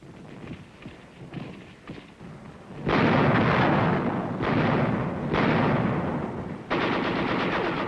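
Heavy US artillery support fire in combat, a quieter stretch of scattered reports giving way to loud, sustained rumbling barrages in several long bursts separated by brief dips.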